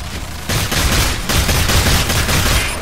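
Rapid volleys of gunfire from a monster-hunting shooter game, Evolve, played as a Medic against a Wraith, fire continuously at close range and loud, dense, sustained bursts with no talk over them.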